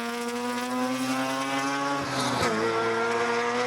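Sports sedan race cars roar around the Sandown circuit during a Victorian Sports Sedan Championship race, a loud sustained engine howl with a car sweeping past and its pitch dropping midway.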